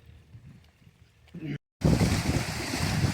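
Strong wind after rain in a Punjab village gusts into the microphone as a loud, rushing roar after a brief silent cut, following a quieter stretch of low sounds.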